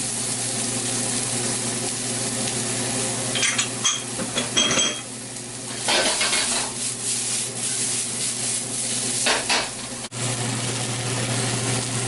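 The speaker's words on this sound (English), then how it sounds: "there we are stir frying the ginger, the onions, and the garlic together" Garlic, ginger and onions scrape and sizzle in a wok as a utensil rubs and clatters against the metal in irregular strokes over a constant background hum.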